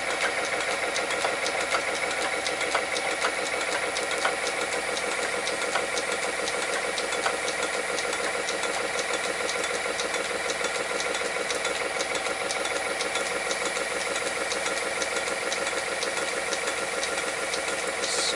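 Lathe steady rest rollers riding over a rough weld on a turning workpiece, a steady rapid rhythmic ticking and whirring machine drone, constant and close with no talk.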